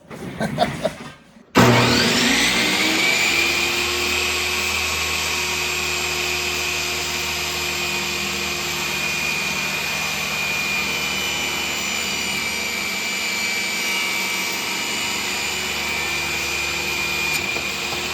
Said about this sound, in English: Now we get to use the table saw